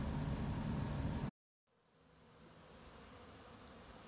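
Honeybees swarm around the hives at the north yard in a dense, hissing buzz that cuts out abruptly, then returns softer and gradually swells again.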